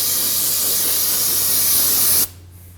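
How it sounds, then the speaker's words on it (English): Brake and parts cleaner sprays in one steady, loud hiss onto a front brake caliper of a 2003-2006 Subaru Baja, then cuts off abruptly near the end. "After you bleed each caliper, it's good to clean it down with some brake and parts cleaner."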